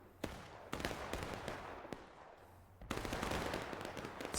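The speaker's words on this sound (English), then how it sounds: "Not by me, by the gunshots in game." In the video game War of Rights, scattered gunshots crack out one after another at irregular intervals, sharp against a constant rumbling din of battle.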